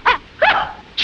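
Small dog yelping after being sat on, three sharp close yips in quick succession, loud and alone with no voices over them.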